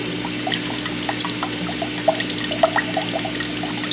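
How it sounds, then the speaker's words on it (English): Coconut water pours from a cut coconut into a cup, a steady close trickle with light splashing and drips for several seconds. "You're gonna pour the coconut water in."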